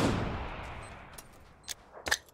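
SKS rifle shots in PUBG on the Miramar map, a few sharp close cracks arriving in quick bursts near the end after a fading rumble, with no talking.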